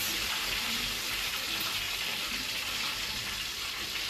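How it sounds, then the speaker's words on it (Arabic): Food for an Egyptian breakfast sizzles in a pan, making a steady, even, hissing crackle that holds at a moderate level throughout, with no voices. "ونسمع الطش"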